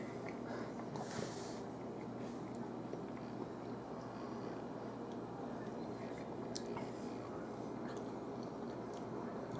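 Someone chews a crunchy Hershey Oreo cheesecake with a crunchy chocolate bar layer, producing soft continuous moist munching and squishy bites close to the microphone at low level, no talking.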